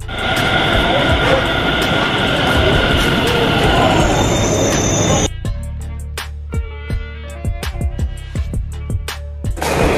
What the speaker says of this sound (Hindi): और बाकी अभी मेट्रो वगैरह आने वाली है।